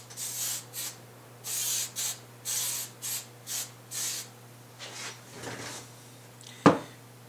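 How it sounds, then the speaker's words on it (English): Hairspray is misted over a scale-model bush in a series of short, close hissing bursts, followed by quieter rustling and a sharp tap near the end, with no speech. "seal it with the hairspray."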